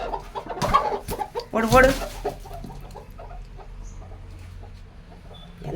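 Brooding hens settled on a clutch of ten to fifteen eggs give low, scattered clucks close by, mostly in the first half, under a person's raised, scolding talk.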